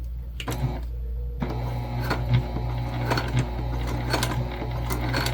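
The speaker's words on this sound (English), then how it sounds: "we're just sort of basting these sections on at 1/8 of an inch seam allowance" A sewing machine stitching bag sections for a travel sling bag at a narrow seam allowance, a close mechanical whirr with rapid rhythmic needle clatter and a short pause near the start, no talking.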